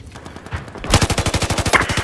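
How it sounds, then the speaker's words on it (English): Enemy machine gun fire in the Battlefield 4 video game, a rapid, loud burst of evenly spaced shots that starts faintly and then grows close and heavy, with no talk. "There appears to be an enemy machine gunner."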